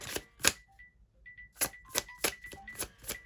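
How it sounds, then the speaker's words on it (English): A mobile phone ringtone plays several short repeated tonal chimes in an irregular pattern, close and fairly clear, with soft shuffling noises between the tones and no talking. "my stupid phone is ringing and I'm not going to touch it"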